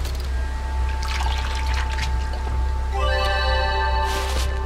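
In the Viviette video game, water in a well trickles and drips steadily at a moderate level, with light splashy bursts and sustained musical tones running beneath it.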